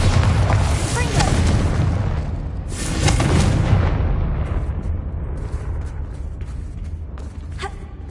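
Booming explosive spells in the video game Hogwarts Legacy, two heavy blasts with rumbling tails that fade into a quieter low ambience, and a faint voice under the sound.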